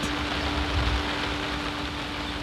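Steady rain falls through a very wet week in the Scottish mountains, a dense, even hiss that holds constant with a low hum beneath it.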